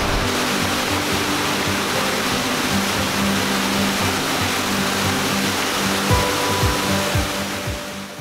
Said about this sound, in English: the Ginger Garden, which features this beautiful man-made waterfall that you can even walk behind